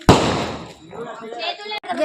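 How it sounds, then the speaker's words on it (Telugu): A single sharp Lakshmi bomb firecracker bang goes off close by and fades, with people talking right after. "చూడండి లక్ష్మీ బాంబులు,"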